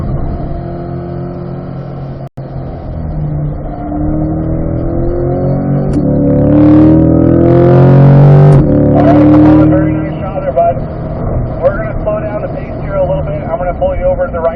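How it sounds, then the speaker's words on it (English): A C8 Corvette accelerating hard on a race track at a performance driving school, engine note climbing loudly through the revs then easing off, with an instructor talking over it. "as we accelerate out of here, roll on throttle just one time all the way through"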